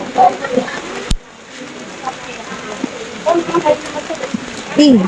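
Steady rain patters outdoors with a broadband hiss, while a person talks over it and brief louder bursts rise near the start and end.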